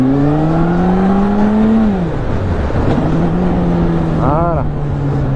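Motorcycle ridden at a brisk pace, its engine droning loudly and shifting pitch as the rider changes gears and speed, with a short chirping rattle near the end.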